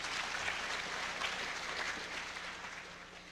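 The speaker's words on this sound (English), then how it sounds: "There, now you can applaud." Audience applause at a hacking conference after a lockpicking demonstration, a steady wash of many hands clapping from across a room, fairly faint and fading slightly toward the end.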